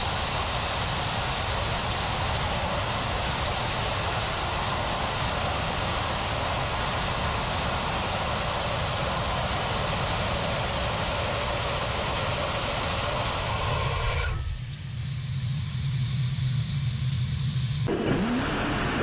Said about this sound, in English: this that you'll see is a startup of 2 of their Reaver engines